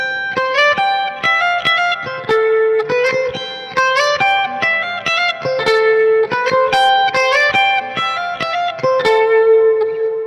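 Clean electric guitar lead for the verse of a song, a brisk repeating pattern of picked notes and ringing chiming harmonics in a steady rhythm, up close and alone.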